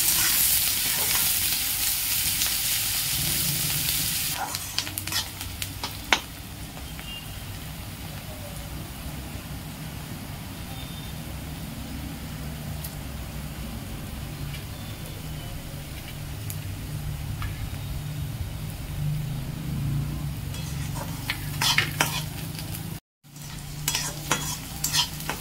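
Three large chopped onions sautéing in a pan until brown, a steady, continuous sizzle and frying crackle with occasional stirring scrapes throughout, heard close and alone without talk.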